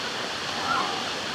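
Continuous rushing of a strong-flowing stream, a loud, close, even wash of water with no breaks.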